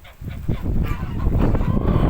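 Geese honking in a busy, overlapping flock, steady and fairly loud throughout with several birds calling at once nearby.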